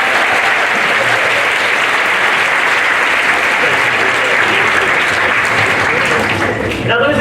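Loud, sustained audience applause at a stage show, a thick continuous roar of clapping that holds steady for several seconds before dipping slightly near the end.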